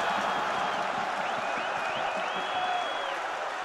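A football crowd at Bohemians' Vršovice ground applauds a penalty goal against Dynamo České Budějovice: steady, dense clapping and crowd roar fill the stadium, with faint whistles drifting over the top.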